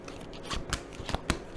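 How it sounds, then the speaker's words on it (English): A small hand of about six tarot cards is shuffled close up in a quiet room, with several crisp riffling snaps over a faint rustle and no voice. "It's going to be pretty hard to shuffle a few cards that I've got here."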